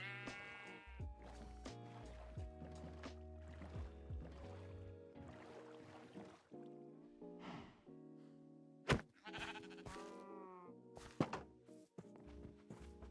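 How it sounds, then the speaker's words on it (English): Sheep bleating in the Minecraft video game, with several repeated bleats at moderate volume alongside game thunks and soft clicks, and no talk over them. "But for now, we'll just move the sheep in here."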